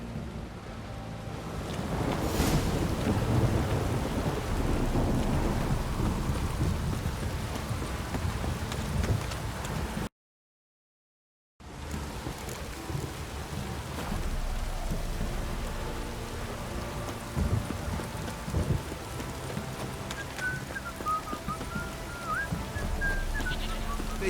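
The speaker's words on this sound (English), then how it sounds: "This downpour's a bastard" Steady heavy downpour with rumbling thunder in The Witcher 3, a dense continuous wash of rain that cuts out completely for about a second partway through, then returns just as loud.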